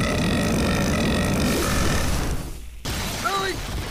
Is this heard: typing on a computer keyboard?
no